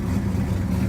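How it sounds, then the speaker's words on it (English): A cold 1972 Chevrolet El Camino with a 454 big-block V8 idling around 1,000 rpm, a steady, close, low rumble with no voices over it. "She's idling."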